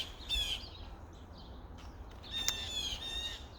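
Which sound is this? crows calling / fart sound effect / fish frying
crows calling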